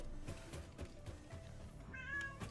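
A cat meows once, fairly faint and short, near the end amid quiet indoor background noise.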